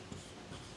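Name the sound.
pen writing on paper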